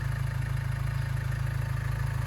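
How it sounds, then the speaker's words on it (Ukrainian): A 2005 Renault Trafic 1.9 diesel van engine idles steadily nearby, a low, even rumble with a constant throb and no changes in speed. "думаю, що навіть чути по мотору, як він працює"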